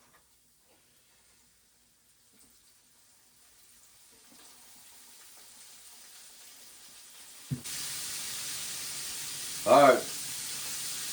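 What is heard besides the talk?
batter-coated bullfrog legs frying in hot grease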